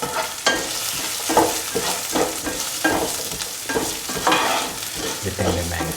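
Tender mango pieces with onions and curry leaves sizzle in a pan while being stirred with salt, giving rhythmic scraping strokes over a continuous frying hiss, close and clear, with no speech.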